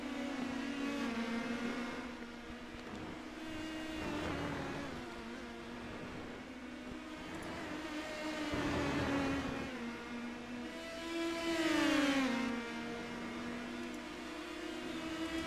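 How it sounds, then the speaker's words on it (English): Engines of Indy Pro 2000 race cars in iRacing, a sustained high whine whose pitch rises and falls as cars accelerate and pass, with one sharper surge late on, heard without commentary. "doing it with a blinking car screaming past you as well"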